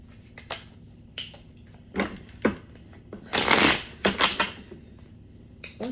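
A tarot card deck is shuffled up close in several quick riffling bursts and crisp card slaps, with a louder sustained riffle near the middle and no talking.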